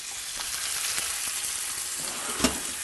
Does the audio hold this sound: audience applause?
no